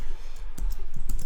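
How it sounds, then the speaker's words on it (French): A few crisp, close computer clicks of a mouse pressing an on-screen OK button, short and sharp against quiet room noise. "Et je clique sur OK."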